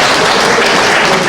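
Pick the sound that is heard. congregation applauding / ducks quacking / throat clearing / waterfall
congregation applauding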